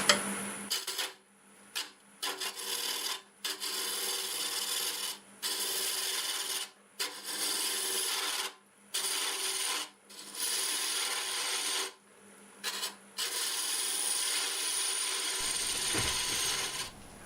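A round carbide lathe tool scrapes against spinning ironwood in repeated gritty, rasping passes, each a few seconds long with brief pauses between them, under a low steady motor hum that cuts out near the end.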